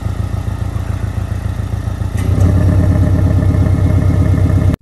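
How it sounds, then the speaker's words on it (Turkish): A Porsche 718 Cayman's engine runs with a steady, throbbing rumble that suddenly deepens and grows louder partway through as its sound changes, holding a fuller, pulsing drone until it cuts off abruptly. "Motorun sesinin değişimini size fark etmişsinizdir."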